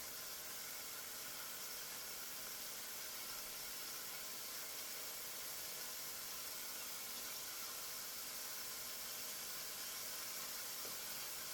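Steady, even hiss of kale sizzling in a hot skillet, a continuous broadband crackle with no pauses and no talking.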